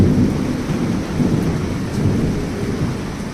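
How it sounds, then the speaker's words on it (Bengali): Heavy rain pours down in a continuous dense roar, with deep rumbling thunder rolling underneath throughout; no voices. "অঝরে এই বৃষ্টি, মেঘলা আকাশ আর মেঘের এই গর্জানি"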